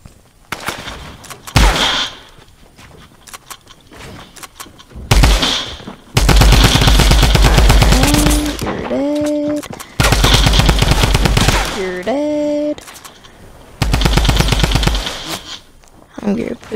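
Rapid automatic gunfire from drum guns in a video game shooter, loud bursts of sustained fire separated by quieter gaps, with game sound effects layered between them.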